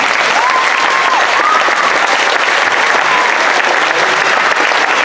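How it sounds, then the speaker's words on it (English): Loud, dense applause from an elementary school audience at a first-grade living zoo performance, continuous clapping filling the room, with a few faint voices rising above it. "All right, we can give them a big round of applause"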